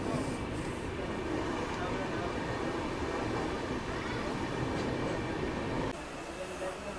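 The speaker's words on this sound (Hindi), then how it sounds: "बाकी अब यहाँ से भी अपनी जो ट्रेन है वो निकल चुकी है।" Howrah Titlagarh Ispat Express train running, a steady loud rumble of wheels and carriage noise throughout that drops slightly near the end, with muffled voices faintly underneath.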